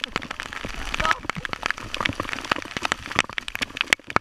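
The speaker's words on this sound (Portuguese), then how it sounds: "Olha, granizo" Dense, irregular pattering of hail striking surfaces, continuous and loud throughout, with sharp individual impacts standing out.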